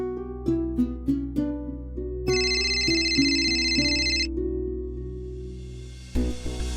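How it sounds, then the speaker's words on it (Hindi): A telephone rings during an outgoing call: a clear electronic ringtone of short repeated notes, then a longer sustained tone, then a fresh burst near the end, fairly faint and with no voices. "अम्मार को फोन करती हूँ।"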